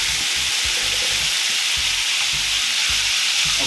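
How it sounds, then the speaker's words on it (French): White wine poured into a hot frying pan after cooking escalopes sizzles loudly and continuously, a dense close hiss with faint stirring scrapes pulsing underneath. "je viens mettre le vin blanc."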